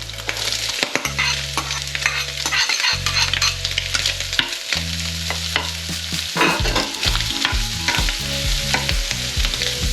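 Onion goes into a pan of potatoes and bacon frying in oil and sets off a loud, busy sizzle. Stirring clatter keeps breaking through the hiss, along with a low, steady hum of background music.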